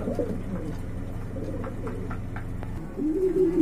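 A pair of Black Danish pigeons coo softly in a few low, rounded calls over a steady background hum, with a louder rustle near the end.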